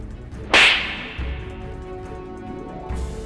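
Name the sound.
slap sound effect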